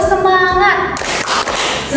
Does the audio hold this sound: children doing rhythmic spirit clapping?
yes